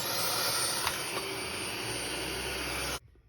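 A Dyson vacuum cleaner head runs after its motor was replaced, giving a steady, loud high-pitched whine with a constant hum underneath. It holds for about three seconds, then cuts off abruptly.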